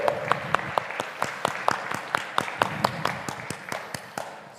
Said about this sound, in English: So let's give a really good and warm round of applause for Pesho and the organizers.